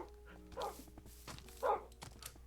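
Dogs bark in a Minecraft game: two distinct barks, moderately loud, the first near 0.6 s and a stronger one around 1.7 s, over quiet background game sounds with no talking.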